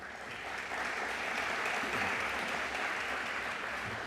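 An audience at a mayor's State of the City address breaks into steady, moderately loud applause that swells and holds for about four seconds.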